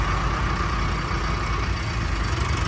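A tractor engine runs with a steady, low droning rumble, close and fairly loud, holding an even pitch throughout.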